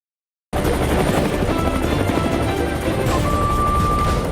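Helicopter flying over a remote drop zone in the high mountains of Arunachal Pradesh, Indian Air Force, a loud steady rotor and engine roar that starts abruptly after half a second of silence and holds constant.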